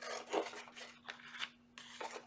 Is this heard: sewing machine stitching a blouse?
no